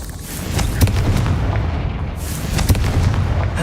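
Confringo spell explosions in the video game Hogwarts Legacy: two loud booming blasts with rumbling low-end, about two seconds apart, over steady game ambience and no talking.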